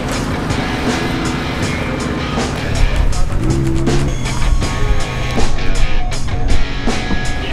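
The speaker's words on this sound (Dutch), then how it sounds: "Ja, dit is een Can-Am buggy." A Can-Am buggy, the wider version, rumbles loudly through sand dunes. The engine drones from up close, with surges and rattling bumps, and faint voices sit under the noise.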